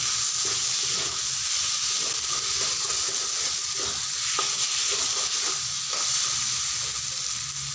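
Potatoes are stirred into a spiced masala frying in oil for a Bengali festive-style young jackfruit curry: steady loud sizzling with scraping stirs of a spoon against the pan.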